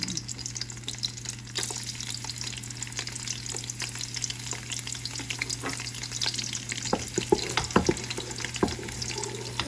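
Garlic frying in hot oil for seafood pancit, a steady close sizzle with crackling pops and occasional stirring sounds, no talk.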